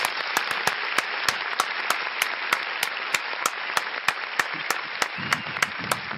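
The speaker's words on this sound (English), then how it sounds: "Everybody, clap it up." An audience at an album listening party claps in a steady, regular rhythm, sharp evenly spaced claps over a constant crowd noise, with a brief low sound near the end.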